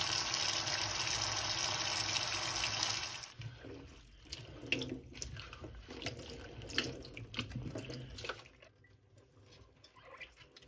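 Tap water gushes steadily into a cooking pot holding vegetables for stock; the pour runs loud and even for about three seconds, then turns quieter and more irregular.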